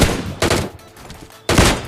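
Two sharp bursts of gunfire in PUBG Mobile Lite gameplay, one short volley followed by a quieter gap and then a second loud burst.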